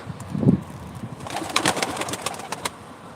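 Pigeons coo and chirp softly at a live pigeon auction in Ankara, several short calls scattered over a low background murmur, with no clear talk.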